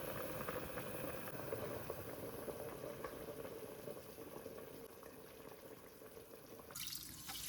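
Liquid bubbles and simmers steadily in a pot, a constant low rolling boil with no voices.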